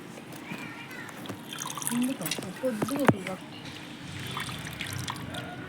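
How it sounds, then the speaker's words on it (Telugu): Spinach leaves are swished and rinsed in water to wash off soil, with splashes and drips under a person talking nearby. "ఇలా మొత్తం మట్టి అంతా పోయేటట్లు వాష్ చేసుకోవాలి"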